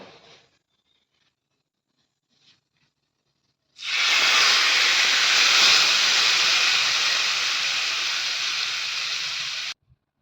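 After a few quiet seconds, a loud, continuous sizzle bursts up as hot tempering is poured into colocasia leaf curry, hissing steadily for about six seconds before cutting off.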